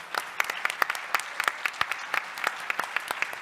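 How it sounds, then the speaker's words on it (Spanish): An audience at a health-innovation summit panel in Chile applauds a speaker, with a brisk, fairly close patter of many hands clapping and distinct individual claps standing out throughout. "Un aplauso"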